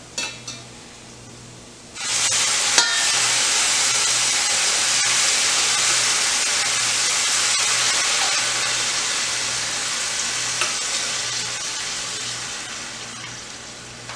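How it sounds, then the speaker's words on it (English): Liquid poured over hot rice for asparagus risotto bursts into a loud, steady sizzle and bubbling simmer after a quiet start, holding close and constant to the end with no voices. "see it came to a simmer just about immediately because of all that heat that's held up in the rice grains"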